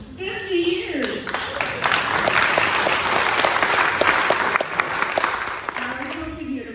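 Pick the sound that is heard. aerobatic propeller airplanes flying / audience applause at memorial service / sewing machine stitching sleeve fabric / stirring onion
audience applause at memorial service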